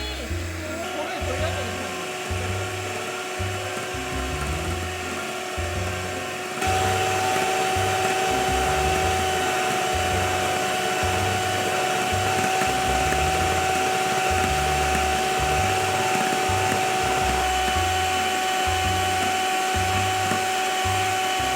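An electric mixer runs steadily at speed 4, whipping génoise sponge batter: a continuous motor whir with a rhythmic low churning from the beaters, rising slightly in loudness partway through and holding close and constant.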